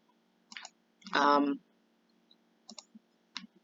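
Computer mouse clicks, a few short sharp taps spaced apart, with a brief burst of speech between them.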